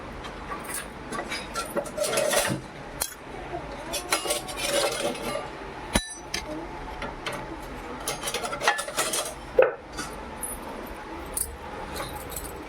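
Plates and dishes clink and scrape as they are picked up and handled at home before a meal. Light metallic taps and rubbing come up close at an irregular pace, with occasional sharper knocks.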